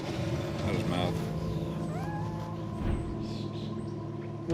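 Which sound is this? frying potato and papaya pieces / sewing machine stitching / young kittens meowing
young kittens meowing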